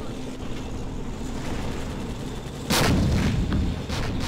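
In the video game Men of War Assault Squad, a tank cannon fires once with a loud, sharp blast over a steady rumbling battle background, followed by fainter echoing cracks.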